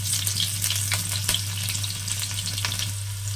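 Chilies sizzle and fry in hot oil in a pan for a Hindi-style green pea puri dish, a steady close crackle with a few sharp stirring clinks and no voices.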